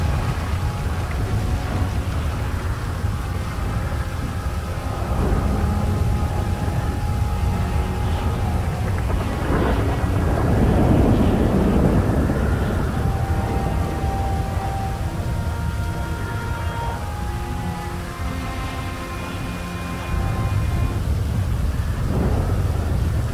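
A thunderstorm with rain in GTA 5, steady rainfall hissing throughout while deep thunder rumbles swell and roll in the middle, with no talking.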